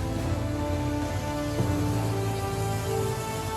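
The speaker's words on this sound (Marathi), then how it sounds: "इकडे पाऊस असल्यासारखा धबधबा बरोबर मंदिरावर कोसळतोय" A mountain waterfall pours steadily onto a temple like heavy rain, a dense continuous rushing wash of water heard close and fairly loud, with no voices.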